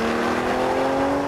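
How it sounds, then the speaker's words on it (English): An Aston Martin DB9 accelerating hard, its engine note loud and close, a steady strained roar with rising tone that holds for just over a second with no voices. "when you put your foot down, you really feel it. It does not hang about, this car"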